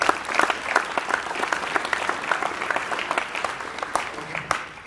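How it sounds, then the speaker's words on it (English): A round of applause at a high school honors night for a student athlete named Carter: many hands clapping with crisp individual claps standing out, moderately loud and sustained for about five seconds. "So I want to give you a special round of applause."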